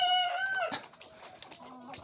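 Four-month-old crossbreed fighting chickens call out close by, one bird giving a long rising-and-falling crow-like cry followed by scattered short clucks and scratchy bursts.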